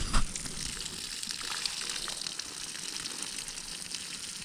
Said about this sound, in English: Hit it with a mostly full can of water.